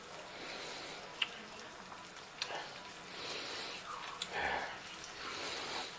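A cream sauce simmers in a pan on the stove, giving a faint, steady hiss with soft scattered bubbling pops throughout.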